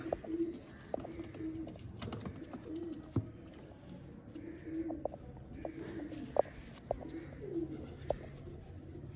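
Breeder pigeons in a loft give soft, repeated coos at moderate distance, mixed with faint chirps and occasional sharp clicks over a low room murmur.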